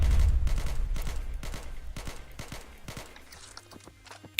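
Short bursts of M4 rifle fire in a video game, several rapid clusters of loud cracks spaced about half a second apart, thinning to scattered quieter shots near the end.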